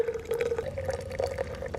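Water poured slowly through a coffee press in a survival coffee kit, a steady trickling stream with a sustained liquid tone and small splashes, close and continuous.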